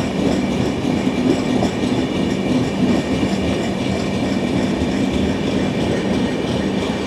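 The 12124 Deccan Queen Express rumbles along the rails between Pune and Mumbai, heard from on board as a loud, steady roar with faint rhythmic wheel clatter throughout.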